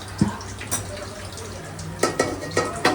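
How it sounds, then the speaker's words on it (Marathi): Chicken being stir-fried in a pot on a home stove, with a spoon scraping and clattering against the metal in irregular bursts over a soft sizzle while people talk nearby. "चांगलं परतवा."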